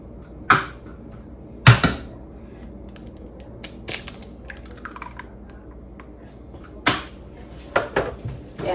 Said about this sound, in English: all you do is you crack an egg in each of them